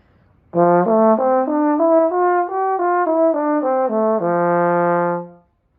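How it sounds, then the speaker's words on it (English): Played alone and close, a trombone slurs over the break, gliding up through a rising run of connected notes and back down again, then settling on a long sustained final tone. "There's the over the break slur, which sounds like this"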